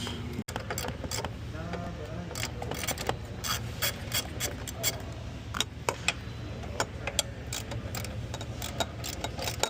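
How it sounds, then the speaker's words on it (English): A ratchet loosening the top strut bolts on an Infiniti G37x clicks in fast rhythmic runs, close and crisp, over a steady background hum with occasional knocks. "we're gonna loosen these top 3"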